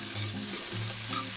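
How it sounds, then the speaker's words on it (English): Peppers, including a giant marconi pepper, and okra fry in a pan for a gumbo omelette, with a steady close sizzle and stirring and a low tonal hum underneath. No one talks. "Frying all this delicious stuff up."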